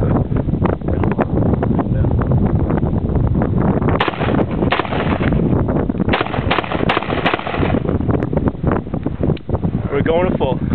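An H&K-416D gas-operated rifle fires full automatic in long, loud, continuous bursts with wind buffeting the microphone outdoors.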